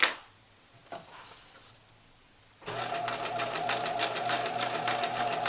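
A sewing machine stitches along a printed line on a sheet of practice paper. A faint click and brief whir come first, then the needle runs in a steady, fast, close chatter to the end.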